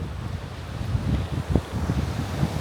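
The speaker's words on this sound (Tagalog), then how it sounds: "Yung mga lagi mong maririnig, yung mga hampas ng hangin." Strong wind gusting across rocky Valugan Boulder Beach in Batanes, a constant roaring rush buffeting the microphone, with brief low thumps of gusts swelling and easing.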